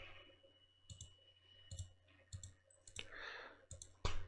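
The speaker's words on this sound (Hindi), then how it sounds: "double click" A computer mouse double-clicks several times while placing objects in editing software: sharp paired clicks at irregular intervals, close and quiet against a faint background hum.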